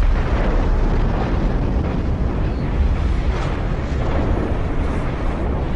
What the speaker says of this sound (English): may even have detonated a nuclear explosion